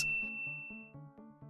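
A bright notification bell ding strikes once, then a short run of repeated chiming tones rings out evenly and close, with no voices.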